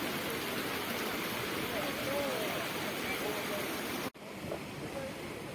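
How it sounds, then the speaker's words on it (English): Water rushing along Cheonggyecheon stream in central Seoul, a steady broad wash of flowing water close by throughout, briefly cut off once, with faint voices underneath. "I really like the sound of the water"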